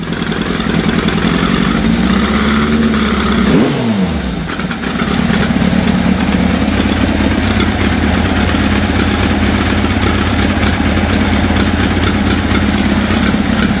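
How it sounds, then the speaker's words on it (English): An old engine, long unused and likely suffering a fuel or sticky carburettor problem, idles roughly and misfires at tick over, a loud, close, uneven chugging that dips briefly once as the revs change. "So it's warming up when you build the revs up, but it ain't firing on tick over."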